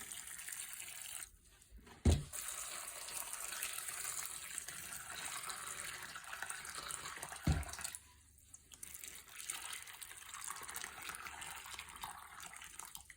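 Boiling water pours steadily over dried beans in a container with a soft, continuous splashing hiss, with a couple of brief knocks, fairly quiet and close.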